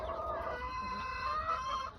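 Close, continuous clucking and drawn-out calls from chickens, including a blue American hen, out in the rain and mud, overlapping in a steady murmur with no talking.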